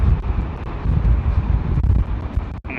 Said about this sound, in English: So it's really windy right here.